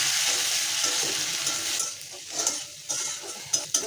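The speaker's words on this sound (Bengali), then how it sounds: "আমি ঝাল আর পেঁয়াজটা কিছুটা ভেজে নিয়েছি।" Chopped onion and green chili fry in hot oil with dry chili and nigella seeds, giving a dense close sizzle broken by quick scraping stirs of a spatula against the pan.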